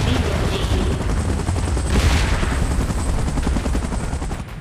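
Loud, dense gunfire mixes with a helicopter's steady rotor roar in the PUBG video game, a continuous wall of rapid shots and engine noise without a break.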